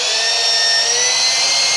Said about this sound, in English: Electric drill with a screwdriver bit in it.